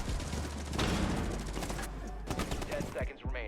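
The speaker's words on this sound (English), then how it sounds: "he's using a flashbang" Rainbow Six Siege match audio with a flashbang grenade amid rapid gunfire bursts and sharp impacts, loud and close, ending in a few distinct bangs.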